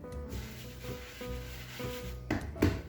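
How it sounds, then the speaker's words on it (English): Welsh cake dough is rolled out on a floured kitchen counter, making soft repeated rubbing and rolling passes with faint thumps, close and quiet with no speech. "So we're gonna roll this out. I'm gonna flour my counter."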